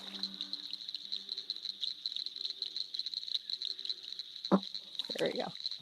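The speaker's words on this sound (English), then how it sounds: "So we'll play that for you. Cricket frogs." Cricket frogs call in a rapid, steady train of sharp clicking notes, clear and fairly close, continuing throughout with a couple of brief louder knocks and rustles near the end.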